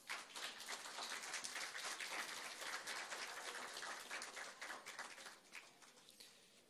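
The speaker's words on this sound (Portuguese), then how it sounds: "Peço uma salva de palmas." Sustained applause from an audience at a legislative award ceremony, steady dense clapping that fades slightly toward the end.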